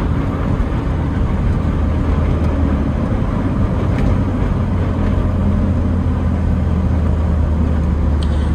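A Smart Fortwo Brabus, a small rear-wheel-drive city car, drives with a steady, loud engine and road drone running throughout, no talk over it.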